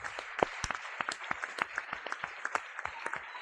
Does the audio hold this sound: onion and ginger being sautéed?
no